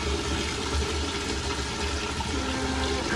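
Water poured from a bucket into a Costway portable washing machine, a continuous rushing, splashing pour at steady close range with no talk over it.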